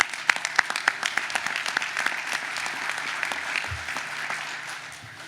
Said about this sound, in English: I would like to give you guys a round of applause for that